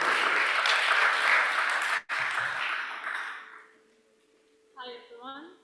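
Audience applause at a national research week event breaks out loudly, continues steadily for about three seconds, then fades away, with a brief voice at the end.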